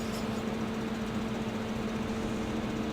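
A tractor engine in Farming Simulator 2015 hums steadily at a low, even pitch, moderately quiet and unbroken for three seconds with no talking.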